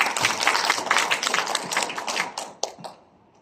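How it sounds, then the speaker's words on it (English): A room full of people gives a round of applause, dense clapping that thins out and trails off over a few seconds. "So really must give yourselves a big round of applause."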